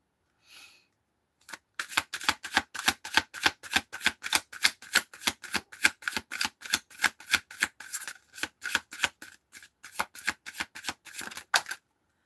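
Tarot cards being shuffled in a long run of quick, crisp riffling bursts, each a short dry flutter of card edges repeating at a steady rhythm, close and clear with no talk over it.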